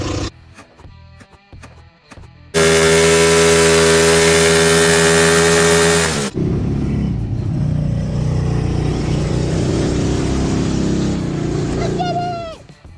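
An ATV four-wheeler engine starts and revs loudly and steadily close by for a few seconds, then drops to a rougher idle and fades as the quad rolls off on a short test ride, with voices talking briefly around it.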